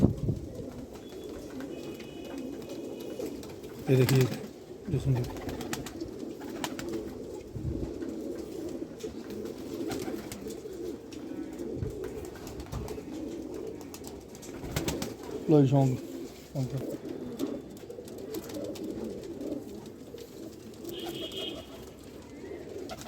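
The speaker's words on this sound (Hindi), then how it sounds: "कलांजी कबूतर है जी" Rampuri Kalanji pigeons coo in low, throaty repeated calls from close by, with a few louder bursts and some wing movement, while someone talks over them throughout.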